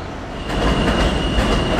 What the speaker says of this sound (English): There's the M train.